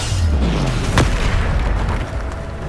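A Bombarda blasting spell explodes in the Hogwarts Legacy video game: one booming burst lands about a second in, over a dense, rumbling spell-combat din.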